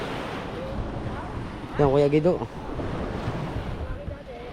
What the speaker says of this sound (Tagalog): Laka ng tubig.